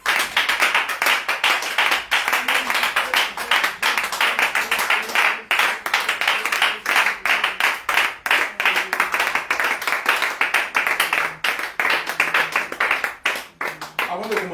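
A congregation claps steadily in rhythm during an evening church worship service, dense, loud and continuous, with singing or voices underneath throughout.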